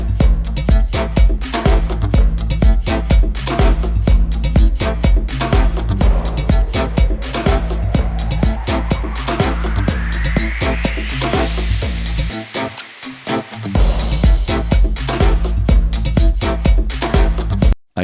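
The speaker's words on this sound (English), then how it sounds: "hear the full mix with the white noise riser" White noise riser made with Serum by Xfer, sweeping steadily upward in pitch inside a loud full electronic mix with pounding beat and bass, briefly dropping out near the end before the track returns.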